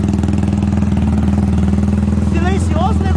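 A 190cc motorcycle engine, freshly rebuilt with a new piston and exhaust, idles loud and close with a steady, even pulsing thump, and someone speaks briefly over it near the end.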